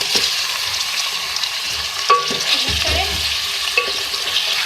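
Half a kilo of beef sizzles in oil with light golden onions for a beef karahi, a steady bright frying hiss broken by scraping stirs and occasional clinks. No talking.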